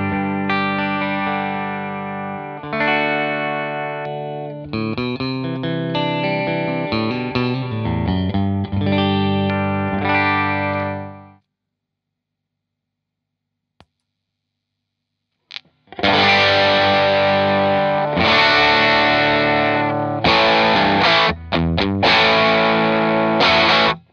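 Heavily distorted electric guitar chords through a Decibelics Reverend distortion pedal ring out loud, then stop for a few seconds of silence before a second burst of crunchy, saturated strumming.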